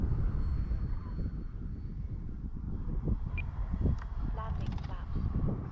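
An E-flite Valiant RC model airplane flies fast and high in light wind, its propeller and electric motor making a steady, fairly loud drone that swells and fades slightly across the pass, with wind rumble throughout.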